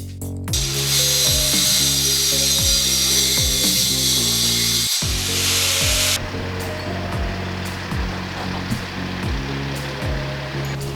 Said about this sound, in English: Justin's over there cutting some steel now